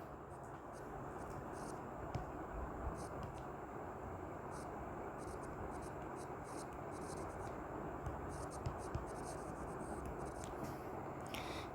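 Steady scratching of a pen or marker writing out carbon-atom counts for an organic chemistry lesson on hydrocarbons, a continuous close, even rasp over a low background hiss with a few faint ticks.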